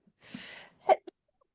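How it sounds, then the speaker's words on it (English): A short breathy intake builds into a single sharp sneeze, followed by a small sniff, close and fairly quiet. "I'm gonna sneeze."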